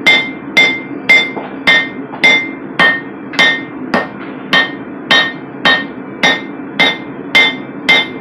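Hammer blows on a half-inch steel bar being flattened on an anvil, about fourteen sharp ringing strikes in a steady rhythm, close and loud, with no talk.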